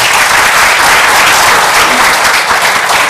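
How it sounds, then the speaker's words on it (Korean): Sustained audience applause from a lecture hall crowd at a 2017 Nobel Prize explanatory lecture, a dense steady wash of clapping filling the room at full volume throughout. "박수 한번 주시고요"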